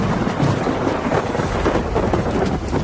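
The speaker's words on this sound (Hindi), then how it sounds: "ठीक उसी वक्त बारिश भी शुरू हुई" Steady rain pours down during a thunderstorm, a dense hiss of falling drops layered with low rumbling thunder, loud and continuous throughout.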